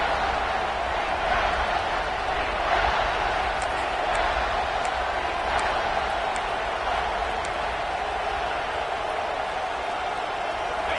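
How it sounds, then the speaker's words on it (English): A home crowd roars at a Florida at Texas college football game, a dense, steady wash of stadium noise that holds at even loudness throughout. "how nice is it to have the home crowd going absolutely bananas?"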